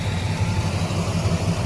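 A hot rod car's engine runs at a steady idle, a close, continuous low rumble with a slight rhythmic lope and no voices over it.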